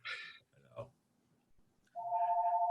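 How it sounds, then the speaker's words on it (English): A phone going off during an online meeting gives a steady electronic ringing tone that starts abruptly and sustains with a slight pulsing, after a brief burst of quiet voice and background noise. "I got a phone going off"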